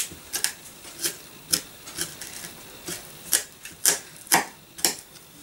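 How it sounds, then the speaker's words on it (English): A knife chops onions on a cutting board for onion soup, giving about a dozen crisp, evenly spaced taps that sound close and fairly quiet, with no voices. "I'm going to cut the rest of the onions."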